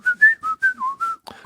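A person whistles a quick run of clear, close tones, about seven short notes in a bouncy rhythm, with a small clatter near the end.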